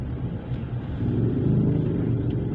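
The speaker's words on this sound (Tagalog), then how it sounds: "heavy traffic" Heavy road traffic rolls past in Manila, a steady low rumble of car engines that swells slightly midway, with no voices.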